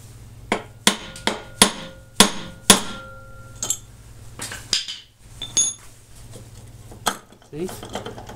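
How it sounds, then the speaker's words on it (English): Hammer blows on a metal punch against a small engine's flywheel key ring out as a string of sharp, close metallic clinks, quick in the first half then sparser, over a faint steady hum. "I'm going to pop it with a hammer."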